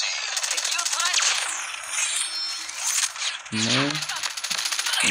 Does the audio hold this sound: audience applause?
no